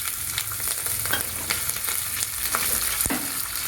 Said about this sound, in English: Now next we will add this green chilli.